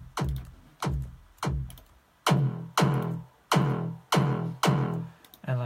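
A synth sound built in Harmor with its effects switched on plays as a repeating series of loud, punchy hits, about eight evenly spaced strikes with sharp attacks and short decaying tails, alone without talk.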